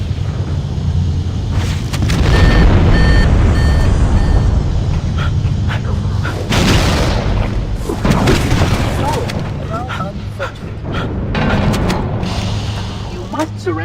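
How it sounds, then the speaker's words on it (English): Fusion reactor explosions in a Halo video game, with loud deep booms and a rolling rumble, several sharp blasts and mechanical clanks, and in-game voices talking amid the action. "Use explosives on the other 3 reactors. That should be enough to trigger a wildcat explosion of the engines."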